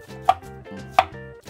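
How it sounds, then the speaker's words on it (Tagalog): A knife chops garlic on a cutting board for a sautéed beef shawarma dish, giving two sharp, close, isolated thuds over a faint background hum. "Hiwain na natin tong bawang."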